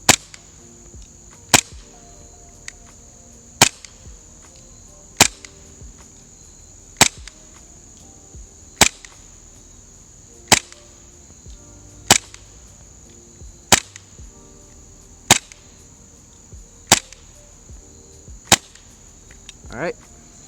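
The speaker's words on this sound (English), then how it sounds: "It's also pretty loud. Well, for a airsoft pistol, that is." A SOCOM Gear Les Baer KJW 1911 gas blowback airsoft pistol fires about a dozen sharp, loud cracks at a slow, fairly even pace. Quiet gaps with a faint hiss fall between the shots.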